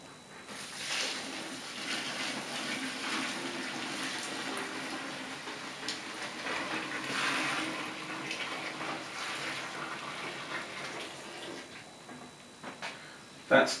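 About two gallons of hot water are poured for home brewing, giving a steady, soft rushing flow that runs for the whole stretch, with faint voices nearby.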